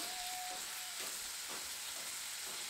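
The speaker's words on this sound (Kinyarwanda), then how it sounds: "Tureke igitunguru cyacu na poivro bishe" Onions and peppers fry in a pan for a plantain dish, giving a quiet, even sizzle and hiss that runs without a break.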